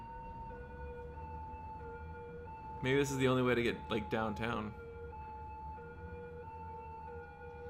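An ambulance siren in the city-building game Cities: Skylines wails in steady sustained tones throughout, with someone talking briefly over it in the middle.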